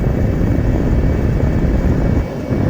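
A 1995 Mercedes-Benz E300 W124 diesel cruising on a freeway, heard from inside as a loud, steady roar of engine drone and road and wind noise with no talking.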